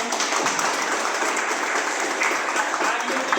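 An audience at a library inauguration breaks into dense, continuous applause, a steady wash of many hands clapping close by that fills the whole stretch without pause.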